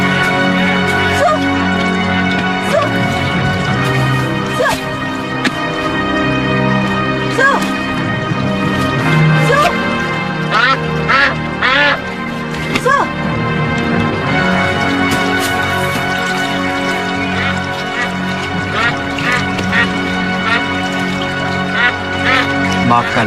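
A bird call, likely a duck-like quacking or honking, rises over a dense bed of background music and dramatic sound effects, with no clear talk.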